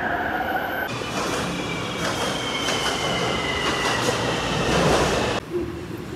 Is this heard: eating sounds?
no